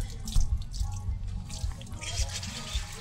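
Push-button shower at a blue-lake campsite running steadily, a close, continuous spray of water hissing for the whole stretch with no talk over it.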